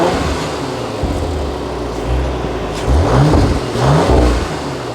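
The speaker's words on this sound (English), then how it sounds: "Let's give it a few revs." An Audi RS4's engine, from a car bought stolen and not working properly, idles loudly up close and then is revved twice in quick, rising bursts that fall back to a rumbling idle.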